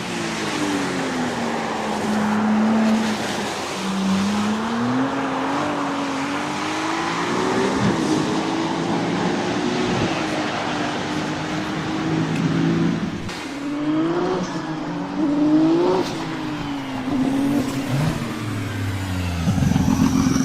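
A BMW F80 driving at speed, a steady broadband roar of tire and wind noise carrying a low, wavering exhaust drone that rises and falls with throttle, continuous and loud throughout.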